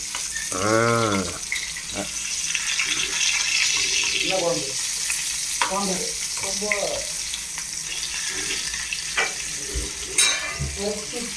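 Steady broadband sizzle of fish frying in a pan on low heat, close and continuous, with occasional clinks and brief speech-like murmurs over it.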